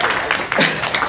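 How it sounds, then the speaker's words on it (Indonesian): Brief burst of clapping from a small podcast audience, a few uneven claps close by with a voice briefly mixed in. "Tepuk tangan lagi dong"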